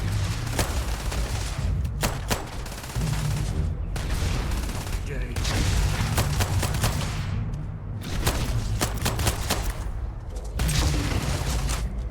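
Sustained gunfire and explosive bursts from the Starfield video game, loud and nearly continuous with repeated sharp volleys and brief pauses, with game voices and music mixed in beneath.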